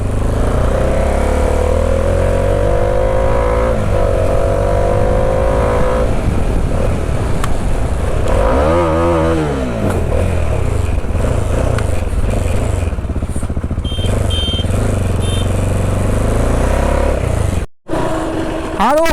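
A Bajaj Dominar 400 motorcycle engine revs up and down, with pitch sweeping up and back down midway, loud and close, mixed with passing traffic and some talk before a brief dropout near the end.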